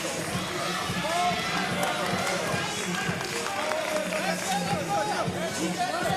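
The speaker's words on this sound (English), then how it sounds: "Good energy in the crowd, too." Spectators fill the arena at a FIBA 3x3 World Cup 2022 basketball game with a steady, lively roar. The dense crowd noise continues throughout, with voices carrying over it.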